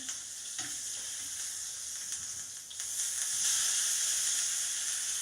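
Steak sizzles loudly in a hot pan; a couple of scraping knocks come as it is flipped, and the hiss grows stronger and steadier afterward, with no speech.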